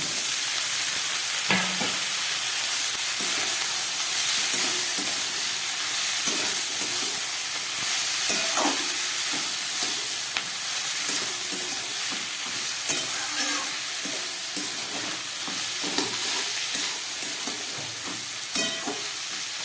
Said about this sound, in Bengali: ভালো করে এটাকে আমি ভেজে নিচ্ছি।